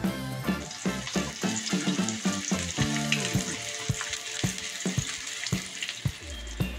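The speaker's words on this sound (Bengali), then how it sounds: "আমি মাছগুলোকে এবার ভেজে নিচ্ছি" Katla fish pieces frying in mustard oil in a wok, giving a constant loud sizzle and crackle, broken by regular sharp knocks and clatter against the pan. No voices.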